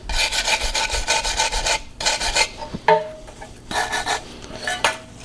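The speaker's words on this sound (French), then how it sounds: "Je viens donner un coup de brosse." A brush scrubs rust off the starter area of a Honda Accord in quick bursts of harsh rasping strokes, rapid and close, separated by short pauses and a small metallic clink.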